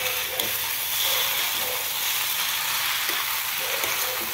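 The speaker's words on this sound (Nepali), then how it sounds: "अब यसलाई हल्का चलाउँदै जाने बिस्तारै थोरै थोरै" Chow mein sizzles steadily as it fries in a pan over low gas, with soft scraping and stirring strokes coming through the continuous hiss.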